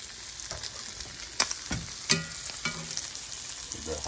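Hot bacon sizzles steadily in a frying pan, a close, continuous crackle and hiss broken by a few sharper pops and scraping stirs.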